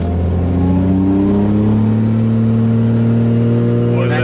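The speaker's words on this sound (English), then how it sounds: "That's like half throttle. So we're at half throttle, coming up 20 pounds." A 2003 Cummins 5.9 diesel truck with a 70mm Garrett turbo pulls at half throttle, its engine droning loud and steady from inside the cab as the turbo whistle climbs slowly in pitch.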